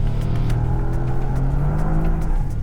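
Bentley Continental GT Speed driving at pace around the Hampton Downs race track, a loud sustained engine drone holding a steady pitch with slight rises, close and continuous for a few seconds.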